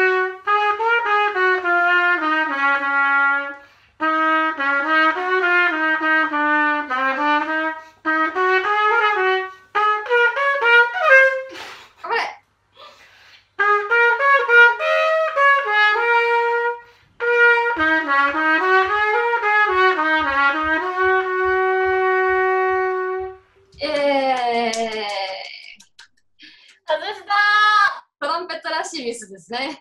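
A professional trumpeter switched to French horn plays the melody of a song: a steady run of clear, sustained brass notes with short breaks between phrases, ending in a few higher, wavering notes.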